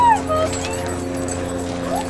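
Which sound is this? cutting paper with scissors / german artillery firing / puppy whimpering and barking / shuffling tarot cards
puppy whimpering and barking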